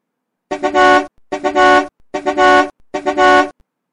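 A bus horn honks four times in a steady rhythm, each blast short and loud and separated by a brief gap, with nothing else heard.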